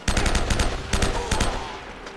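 A gun fires in Uncharted: Drake's Fortune in loud, close bursts of rapid shots, with two quick volleys separated by a short pause.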